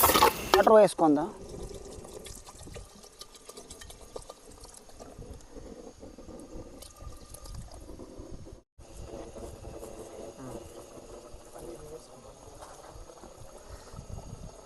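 Water is poured into a paneer handi curry pot over a camp fire during a night camping trip, a steady splashing and sizzling pour that fills most of the stretch, with a brief loud burst at the start.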